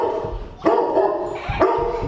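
A dog reacting to a visitor barks excitedly in a few loud, spaced bursts, close by with some whining tones between barks.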